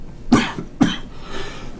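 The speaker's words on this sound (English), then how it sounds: "I had a little bit of cough there" Two sharp close coughs in quick succession from a person recording a spreadsheet tutorial, followed by faint room noise.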